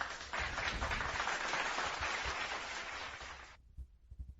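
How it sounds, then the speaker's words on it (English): Brief round of applause from a small group on a wrestling podcast, a short burst of clapping that cuts off abruptly, then faint bumps and noise. "let's give that a round of applause while we're at it"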